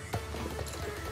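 Hooves of a newly bought Mustang clip-clop in the Star Stable Online video game, a short run of soft, close steps with no talk over them.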